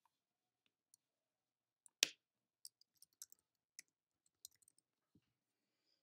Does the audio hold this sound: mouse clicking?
yes